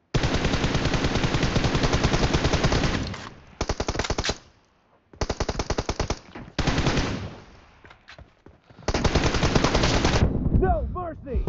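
Assault rifle fire in a PUBG Mobile team deathmatch, long rapid automatic bursts broken by short gaps and a few quieter stretches, loud and close, with brief game sounds between volleys.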